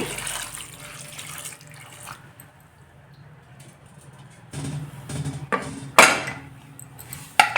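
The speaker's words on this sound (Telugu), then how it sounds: "నీళ్ళు వేసేసి" Water pouring into a metal pressure cooker, a hollow trickling splash that swells, with clanks of metal and short pauses.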